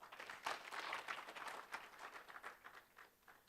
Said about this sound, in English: Let's give them a good hand clap.